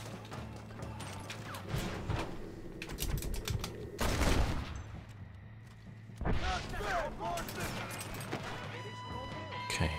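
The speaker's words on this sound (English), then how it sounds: "I like this semi-automatic pistol" Semi-automatic pistol shots in the Western game Red Dead Redemption, several sharp, loud bursts spread across the scene amid clicking and rustling, with a soft-spoken voice talking between them.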